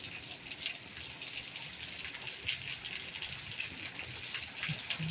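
Steady rushing water noise of heavy rain pouring down in São José da Laje, Alagoas, Brazil, continuous and fairly loud with no voices.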